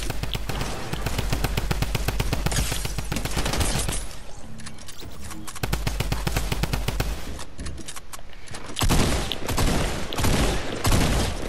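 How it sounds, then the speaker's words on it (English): Rapid, loud bursts of shotgun fire in a video game, shots tumbling over one another in dense volleys with a brief lull midway before resuming. "What are these shotgun shots?"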